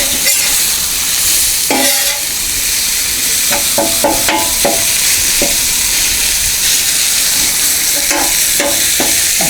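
Ground sausage sizzles and crackles on a Blackstone flat-top griddle while being crumbled, a continuous frying hiss broken by repeated scraping taps of a spatula on the steel surface.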